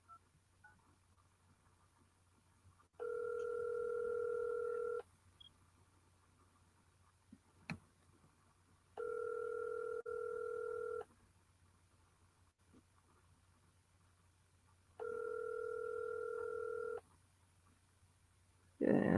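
A telephone plays three evenly spaced two-second ringback or dial tones, each separated by about four seconds of quiet room hum, with a brief click between them.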